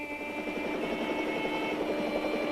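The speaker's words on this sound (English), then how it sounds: "We'll try and get the chopper to spot them." A helicopter's steady rotor thrum and engine whine hold constant throughout, fairly loud and close, with no voices.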